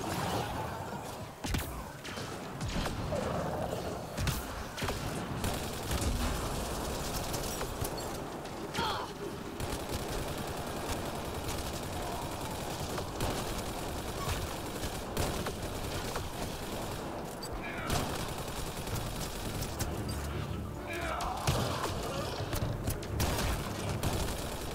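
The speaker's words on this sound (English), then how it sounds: "Heavy artillery! Watch out!" Heavy artillery and gunfire in Mass Effect Andromeda rumble continuously in a dense, loud battle din, with repeated blasts and crackling shots layered over a constant roar, occasional voices mixed in.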